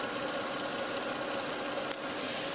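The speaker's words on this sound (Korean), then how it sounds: "이 정도의 엔진 소음 만나보실 수가 있고요" A Mercedes-Benz E63 AMG engine idles steadily and quietly, a smooth continuous hum heard close up with no talk over it.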